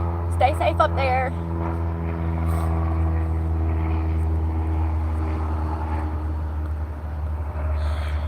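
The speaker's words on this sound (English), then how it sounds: "Y'all hear the planes?" Propeller airplanes fly overhead, a steady low engine drone that holds without break. A person talks over it at the start.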